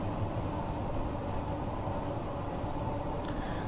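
A London tube train labours up a steep incline in Train Sim World 2, giving off a steady, unbroken rolling rumble with a hissing wash over it, fairly loud and close throughout.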